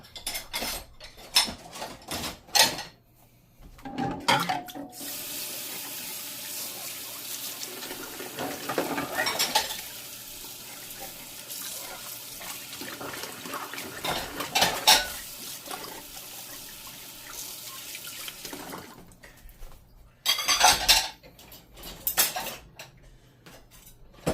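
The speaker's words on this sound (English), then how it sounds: "Dishes in the dishwasher." Dishes and cutlery clatter and clink as they are handled in a dishwasher, with bursts of rattling scattered through and a quieter stretch in the middle.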